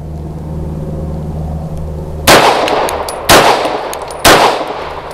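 Three loud, close pistol shots from a CZ 75 BD firing Ammo Inc. Stolf 165 grain subsonic rounds, spaced about a second apart at an outdoor range, each a sharp crack with a short decay.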